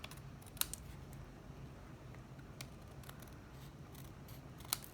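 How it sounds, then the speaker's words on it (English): Scissors trim paper cloud pieces for a handmade card, with several quiet, crisp snips spaced irregularly in a hushed room. "I'm going to trim these cloud pieces down"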